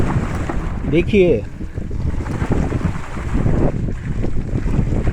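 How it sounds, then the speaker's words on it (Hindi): An electric Splendor motorbike fitted with a GoGo A1 conversion kit pushes through deep flood water, giving a steady rush of water and wind buffeting under a man's brief speech. "देखिए कितने पानी में से हम जा रहे थे."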